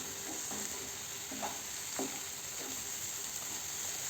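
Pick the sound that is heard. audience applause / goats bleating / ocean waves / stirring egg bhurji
stirring egg bhurji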